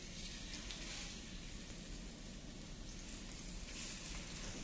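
Food sizzles and crackles steadily in hot oil for a Guinness Extra Stout recipe, a soft continuous hiss with scattered pops, quiet and close.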